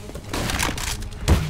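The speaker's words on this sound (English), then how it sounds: "Flashbang!" A flashbang grenade goes off in the video game CS:GO on the Overpass map. A short, sharp burst comes near the end of a brief stretch of game noise.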